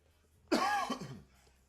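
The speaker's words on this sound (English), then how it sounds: "Sorry about the random coughs here and there." A single rough cough with a bit of throat clearing, close and fairly loud against near silence.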